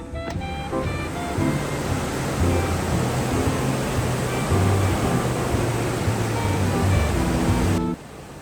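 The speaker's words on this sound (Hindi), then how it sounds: "यहाँ पर बहुत ज़्यादा शोर था पानी का" Sea water rushes and hisses steadily below a cruise ship balcony, a loud, continuous broadband wash of churning waves with low rumbling underneath, no voices present.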